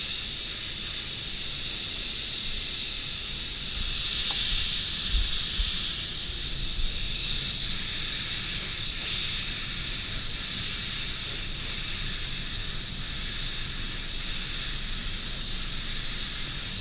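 Steady broadband hiss of compressed air rushing through the TE10 air cap of a DeVilbiss GTI Pro or GTI Pro Lite spray gun, running continuously at a close, even level with a slight swell near the middle.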